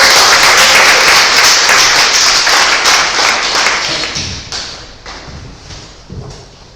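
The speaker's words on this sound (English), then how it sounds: "Give her a round of applause" An audience at a speaking event greets a guest speaker with loud, close applause that gradually thins and fades over several seconds.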